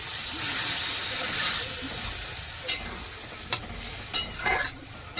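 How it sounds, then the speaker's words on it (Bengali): A splash of water hits a hot pan of frying curry, releasing a broad hissing sizzle that settles into a softer simmer, punctuated by a few sharp clicks of a utensil against the pan. "একটু জল দিয়ে দিচ্ছি।"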